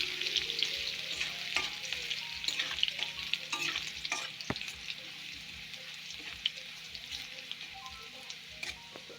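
Garlic paste frying in hot oil with cumin, a steady crackling sizzle with bursts of spattering and stirring clicks, close and continuous for several seconds.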